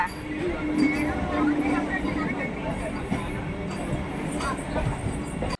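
Continuous rumble of a moving train heard from inside, with faint rattles and people talking under the noise.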